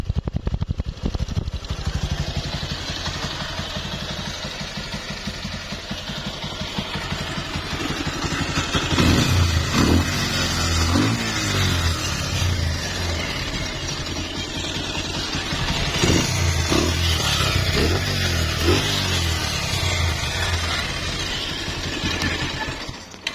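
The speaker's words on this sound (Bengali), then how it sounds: "তো আমি এখন গাড়িটা একটু স্টার্ট দিয়ে দেখাবো আপনাদের। দেখেন গাড়ির সাউন্ড শুনলে বুঝতে পারবেন।" A used Bajaj Pulsar double-disc motorcycle engine starts and keeps running, a steady close idle with a low rumble and a few brief rises in revs.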